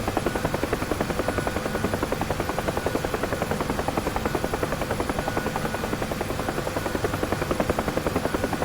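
A UH-1H Huey helicopter in the DCS flight simulator drones steadily in flight, its rotor thudding in a fast, even beat under a continuous engine whine, loud and close throughout.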